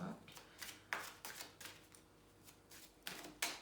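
Oracle cards are shuffled for a tarot reading, giving a series of crisp, rhythmic riffling bursts, close and fairly quiet, with a voice speaking softly underneath.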